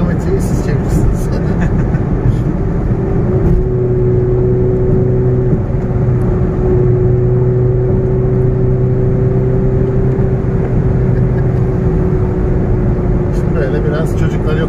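A 2020 Audi SQ5 quattro SUV with a 3.0-litre V6 mild-hybrid diesel accelerates at speed, heard from the cabin as a steady engine drone with a rising tone over road and wind roar, and a voice talks.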